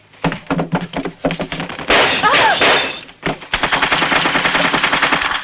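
Rapid machine-gun bursts in a film battle scene, loud and close, coming in quick rhythmic volleys with a brief crashing, hissing surge in the middle before steady automatic fire resumes.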